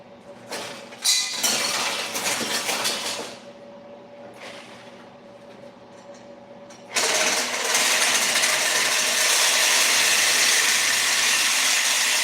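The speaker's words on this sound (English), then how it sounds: "I can just sawzall that quick and it'll be done" A reciprocating saw cuts through hood reinforcement metal during custom fabrication on a Lamborghini, starting with metallic clatter and handling clinks, then becoming a loud, steady, close buzzing cut for several seconds.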